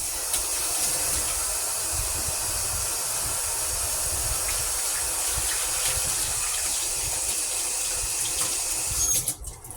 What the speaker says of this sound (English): I want to wash my hands.